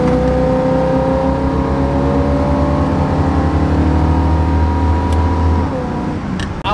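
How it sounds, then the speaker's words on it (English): A 1969 Camaro engine revs hard at a shop, a loud deep throaty drone with rising harmonic tone held steadily before dropping off at the end. "Wasn't revving it out all the way, but right, it still sounded good."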